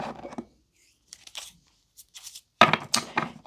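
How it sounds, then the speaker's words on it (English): Tarot deck being riffle-shuffled, brief papery riffles and crisp card flutters in separate bursts with short silences between, ending in a louder cascade of cards close by. "I need to do that kind of flippy, rifle, ruffle, whatever, shuffle one more time."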